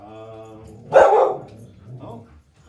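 One loud, close bark from a dog in a kitchen, rising out of a soft whine or whimper and followed by a quieter trailing sound.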